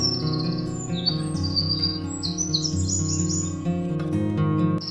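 A koel calls in a garden amid a run of bright, high chirps and tweets that rise and fall over a steady musical background, with no talking.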